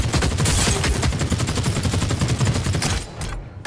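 Gunfire in The Cycle: Frontier, a loud rapid fusillade of shots in quick succession with no break for several seconds before tapering off.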